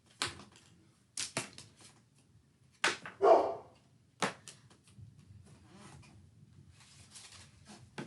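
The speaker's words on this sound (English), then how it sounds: "Sorry, my dog's in the background." A pet dog barks in short, sharp bursts in the background of an indoor room, several separate barks spread over a few seconds with quiet gaps between them.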